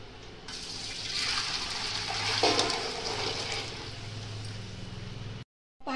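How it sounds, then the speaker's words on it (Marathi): Heated water is poured from a vessel into a large pot on a gas stove, a continuous splashing gush lasting about five seconds before cutting off abruptly. "पातेल्यामध्ये गरम केलेलं पाणी टाकून घेतलं"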